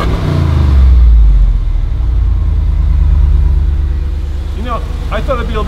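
A 2013 Jeep Wrangler SRT with a 6.4L HEMI V8 rumbles loudly close by, a deep engine swell after start-up that settles into a heavy idle, with voices talking at the end.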